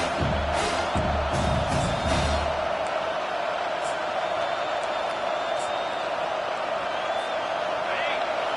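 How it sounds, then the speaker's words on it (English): A home crowd at a football game roars and cheers in a loud, sustained wash of noise, with a few thuds early on, while a commentator talks over it. "how nice is it to have the home crowd going absolutely bananas?"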